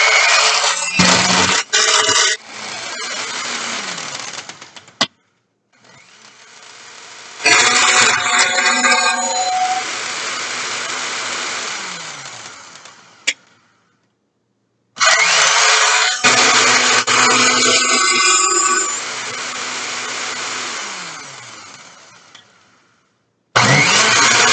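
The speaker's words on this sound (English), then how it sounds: "once all the ingredients are into the blender, now you will mix all the ingredients together." A kitchen blender whirs loudly in three long bursts as it mixes apple milkshake ingredients. The motor roars up, holds a steady grinding hum, and cuts off, with brief pauses and clunks between the runs.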